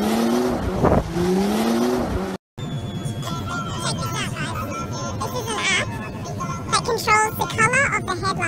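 An SUV's engine roars and revs hard in sport mode with rising pitch, loud and close, with people's voices chattering over it.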